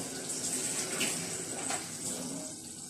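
A cup of water poured into a cooking pot of seafood rice, a continuous splashing, running flow heard up close for the whole stretch, with no talking over it.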